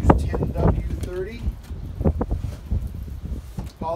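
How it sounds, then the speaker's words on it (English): Low rumbling wind buffeting a microphone, with a person talking over it in short bursts. "Apologize, it's windy."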